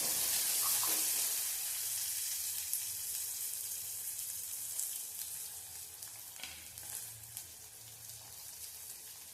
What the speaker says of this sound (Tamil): நல்லா பொன்னிறமா வதங்கி வரணும். இது கூட ஒரு பச்சை மிளகாய் கீரி சேர்த்துருக்கேன்